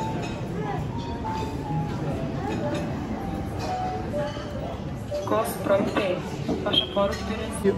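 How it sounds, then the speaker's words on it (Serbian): A sushi conveyor train at a restaurant rolls up carrying food, with a low mechanical rumble and light clinks heard under continuous nearby talking and a busy dining room. "Evo ga vozić. Stiže hrana. Stiže naš vozić."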